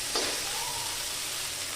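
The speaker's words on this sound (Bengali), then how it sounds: "এবার খুন্তি দিয়ে এভাবে একটু করে পেটে পেটে পেটে বেগুনগুলোকে দেবেন যাতে আর্ধেক আর্ধেক" Fried brinjal is pressed and mashed with a spatula in a sizzling pan, a steady hiss of frying oil with a light scrape near the start, no voices.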